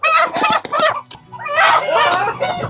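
Chickens cluck loudly and almost continuously inside a coop, with several birds close by and one crow-like call partway through.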